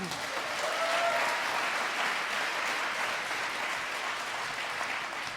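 Sustained audience applause follows a song performance at an awards ceremony, many hands clapping in an even, continuous wash at a moderate distance, tapering a little toward the end.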